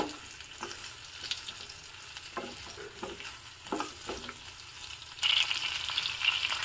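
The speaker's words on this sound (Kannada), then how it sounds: "ಈಗ ಸ್ವಲ್ಪ ಲೋಳೆ ಅಂಶ ಹೋಗೋವರೆಗೆ ಇದನ್ನು ಚೆನ್ನಾಗಿ ಫ್ರೈ ಮಾಡ್ಕೊಳ್ಳೋಣ" Chopped okra frying and being stirred in a large pan, a soft steady sizzle with intermittent scraping of the spatula that grows louder near the end.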